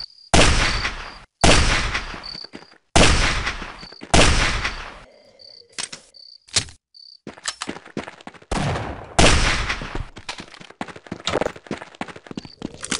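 Bursts of video game gunfire from They Hunger crack out in several loud, sharp volleys, separated by short pauses and scattered single shots, with a faint high electronic tone in between.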